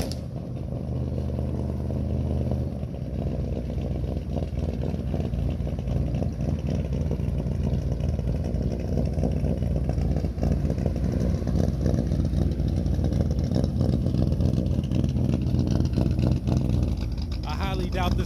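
A custom Chevy C10 truck's engine runs loud and close, a rough, chugging idle that rises into revs and falls back over a long stretch, with a brief rattle near the end.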